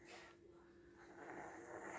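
A sleeping child snoring softly at home in Indonesia, quiet, close breathing snores with a rasping inhale, one slow breath cycle running through the two seconds, with no talking over it.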